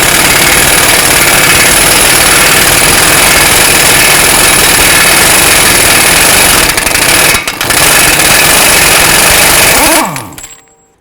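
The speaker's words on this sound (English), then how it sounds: "Using a 30mm 12-point socket," A Toyota Camry (2012-17) axle nut comes off with a 30mm 12-point socket on an impact gun, producing one long, loud, continuous hammering rattle with a brief dip, then a quick wind-down at the end.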